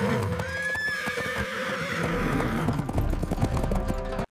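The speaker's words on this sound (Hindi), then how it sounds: "सारे घोड़े तैयार होकर सिपाहियों के साथ रवाना हो गए।" A horse whinnies near the start over a busy patter of hooves clip-clopping as a group of horses sets off, the hoofbeats growing heavier and denser toward the end before cutting off abruptly.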